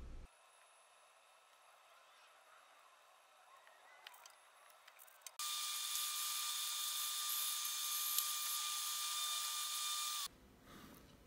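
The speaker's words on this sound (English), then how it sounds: "So now we just need to trim and polish this acrylic." A dental rotary handpiece trims cured acrylic on a repaired denture, first as a quieter whine with brief touches, then a loud, steady high-pitched grinding whir held for about five seconds before stopping abruptly.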